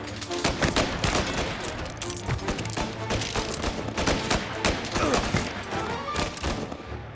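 Dense, continuous gunfire from Mafia: Definitive Edition, with rapid overlapping shots and bursts sustained at high loudness throughout.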